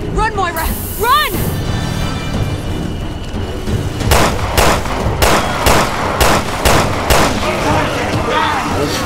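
Rapid bursts of loud gunfire ring out in Resident Evil Revelations 2, a string of sharp repeated shots over an urgent game soundtrack, with a player talking over it.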